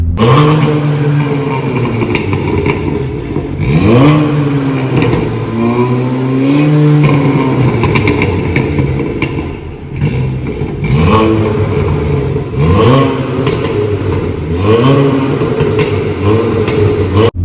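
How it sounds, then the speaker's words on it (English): A loud Stage 2, 400 bhp Volkswagen Golf R engine revs close by in repeated rising bursts, its exhaust roaring and burbling between throttle blips. "as you can probably hear, it's quite loud. So let's start off with the exhaust."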